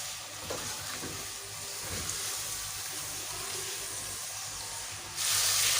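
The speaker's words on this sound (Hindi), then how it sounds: "अब हम इसमें डाल देंगे गोश्त। और इसको हम अच्छे से भून लेंगे कि इसका कलर चेंज हो जाए।" Beef frying with softened onions in a pan gives a steady, close sizzle with faint stirring clatter, rising into a louder hiss near the end, with no voices.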